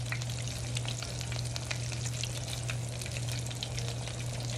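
Beer-battered onion rings fry in hot oil with a dense, constant crackling sizzle and a low steady hum under it. The bubbling stays even and close throughout, and no one talks.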